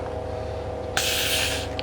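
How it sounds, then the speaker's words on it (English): Air hisses out of a Magic Vac Maxima 2 vacuum sealer canister as its flap is lifted, a sharp, close hiss lasting under a second over a low steady hum. "and it releases the air"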